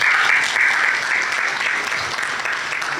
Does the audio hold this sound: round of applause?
yes